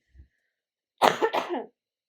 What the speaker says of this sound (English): I did not realize I had that cough in me.